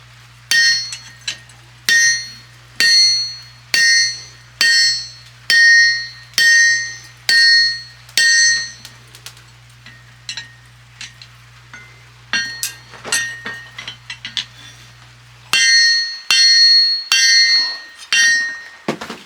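A blacksmith's hammer strikes hot metal on an anvil during forging, giving loud, ringing, evenly spaced blows with a bright metallic clang. A denser run of lighter taps falls in the middle, and no one speaks.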